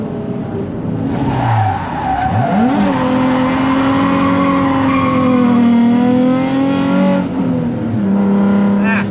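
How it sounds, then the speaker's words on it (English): A race car being driven on a track the day after a big crash, its engine loud and close, revving and climbing in pitch through gear changes before easing off near the end. "I'm really taking a cruise in the car to see how good I feel."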